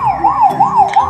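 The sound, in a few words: siren sound from a toy police car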